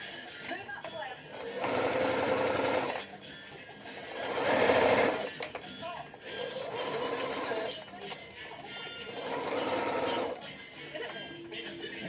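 A sewing machine stitches bulk hair onto a track in several loud whirring bursts separated by pauses, with someone talking quietly in the gaps.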